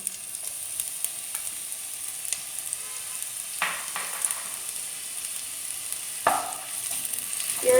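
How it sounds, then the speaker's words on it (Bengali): Chopped onion goes into about three spoons of hot white oil in a wok and fries with a soft, steady hiss, interrupted by a few sharp scraping stirs. "তেল গরম হয়ে গেছে, এবার আমি দিয়ে দিচ্ছি পেঁয়াজ কুচি।"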